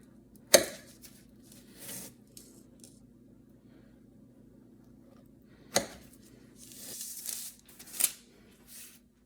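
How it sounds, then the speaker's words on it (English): A knife cuts brown butter shortbread into sections, giving a few sharp, quiet crunching cuts spaced several seconds apart with faint scraping between them. "I'm just going to cut one section at a time."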